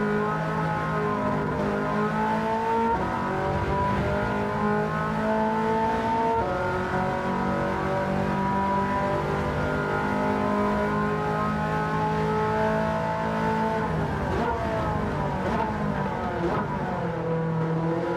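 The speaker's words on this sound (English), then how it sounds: "There is the 3-litre V8 from the Ferrari 308" A Ferrari 308's 3-litre V8 engine in Gran Turismo 7 revs continuously with rising and falling pitch as it shifts through gears, loud and steady throughout.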